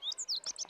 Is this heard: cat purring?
no